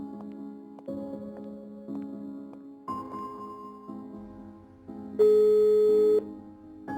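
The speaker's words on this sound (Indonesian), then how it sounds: "aku telepon Mbak Karti dulu." Ringback tone of an outgoing phone call in an Indonesian drama: a sequence of steady electronic tones stepping between pitches in a repeating pattern, with one louder, brighter tone near the end and no voices.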